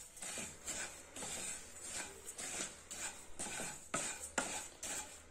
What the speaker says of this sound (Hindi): अब ये मीठी सौंफ, कड़वी सौंफ और अजवाइन, ये भी हम थोड़ी से हल्के हाथों से इनको भून लेंगे